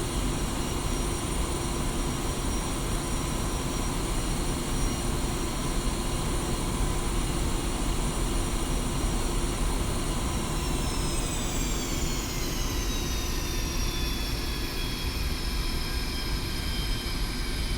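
A Su-25T Frogfoot jet taxiing in the DCS flight simulator: a loud, steady engine drone with high whining turbine tones that slide downward partway through, continuous and without talk.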